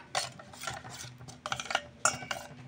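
A spoon stirs semolina with water in a bowl, giving a series of close scraping, rubbing strokes in irregular bursts with brief pauses between them.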